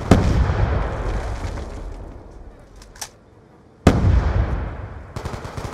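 A grenade blast and heavy gunfire in Call of Duty Black Ops 2 custom PC games: dense, loud rattling bursts fade to a brief lull, then a sharp explosion sets off more sustained firing.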